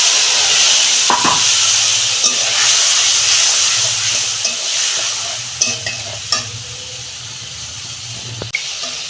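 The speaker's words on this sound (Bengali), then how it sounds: "গোটা জিরে দিচ্ছি ফোড়নে, এই যে আদা কাঁচা লঙ্কা পেস্ট করে রেখেছিলাম দিয়ে দিচ্ছি" Whole cumin seeds and a ginger and green chili paste sizzle steadily in hot oil, a loud, continuous frying hiss with a few sharp crackles and clicks from a spoon or pan, and no talking.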